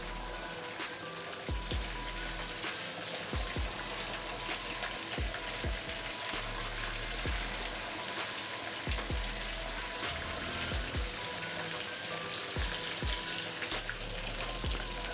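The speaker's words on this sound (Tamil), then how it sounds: "கொஞ்ச நேரம் நல்லா ஃப்ரை ஆகட்டும்." Chicken 65 pieces sizzle in hot oil, a continuous crackling spatter with scattered sharper pops throughout, steady and close.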